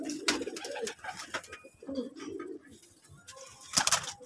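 Pigeons coo in low, throaty bursts close by, with a few soft wing flaps and sharper bird calls mixed in over about four seconds, with no talking.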